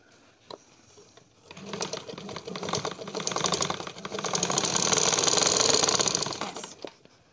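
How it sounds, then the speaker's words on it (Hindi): A sewing machine stitches a knife plate (pleat) into fabric, its rapid mechanical whir building steadily to a loud, continuous run before stopping, heard up close with no talk. "अब इस पे मैं सिलाई लगाऊंगी,"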